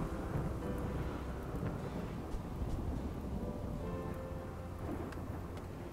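Rain falls in the colony-building game Rimworld as a steady, fairly loud rushing wash with deep rumbling underneath, continuous and with no talking.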